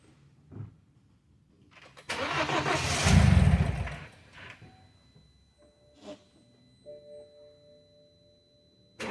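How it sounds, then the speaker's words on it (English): A BMW X3 with a no-start and no-power fault cranks for about two seconds in a loud, churning burst. Softer clicks and a few steady electronic tones follow in a quiet setting. "If not, we'll get to hear it cranking."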